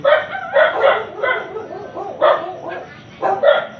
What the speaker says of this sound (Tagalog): maingay ang aso ng kapitbahay